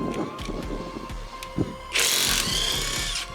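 A power tool bursts into a loud, sustained whirring run on a wheel nut of a Mitsubishi Evolution 7 in a home garage, following a stretch of scattered knocks and handling clatter.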